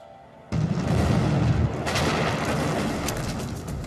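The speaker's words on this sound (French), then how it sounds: "Une explosion très puissante" A powerful underwater explosion, roughly five tonnes of TNT, linked to the Kursk submarine tragedy: a sudden deep boom bursts out of quiet and then rolls on as a sustained, heavy rumble.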